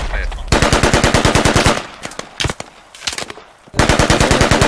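.50 caliber machine gun in the combat game Squad firing in long rapid bursts, loud and close, with short pauses and a few scattered single shots between volleys.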